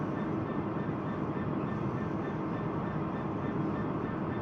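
A train in Train Simulator Classic runs on the Trent Valley line between Nuneaton and Stafford, heading over a crossover onto the down fast line, giving a steady low rumble and rolling noise throughout with no clear voices.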